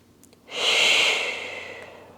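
One deep, slow breath during a Pilates stretch, a soft airy rush that swells after a short silence and fades gradually, close and alone.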